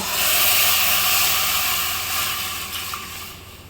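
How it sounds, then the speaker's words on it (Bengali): Mango pieces added to a hot kadai with melted sugar syrup, producing a loud, steady hiss and sizzle that slowly fades. "কড়া কিন্তু গরম হয়ে গিয়েছে এবার আমি এখানে এই আমটা অ্যাড করে দেব"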